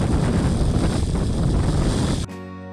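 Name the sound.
wind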